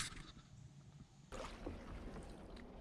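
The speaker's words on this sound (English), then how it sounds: "So I'm going to start paddling." A kayak paddling on the Suwannee River, with soft watery splashes and a faint wash of wind that gets noticeably fuller after a short, quieter opening stretch.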